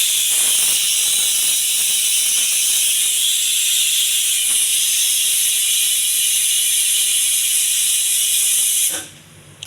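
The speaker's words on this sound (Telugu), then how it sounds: "స్టవ్ మీద కుక్కర్ పెట్టి ఒక 5-6 విజిల్స్ రావాలండి." A pressure cooker on a lit stove vents steam in one loud, continuous close-up hiss for several seconds before it abruptly drops away to quiet.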